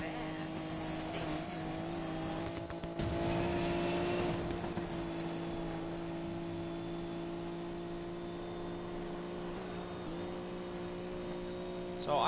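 Car engine in the Need For Speed Payback racing game during an off-road stretch, a steady droning hum with a brief surge of revving partway through, running under the player's talk.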